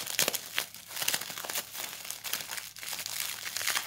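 Plastic wrap crinkles as it is rolled around cotton batting for a homemade squishy, a close, steady rustle of crackling bursts with no talk.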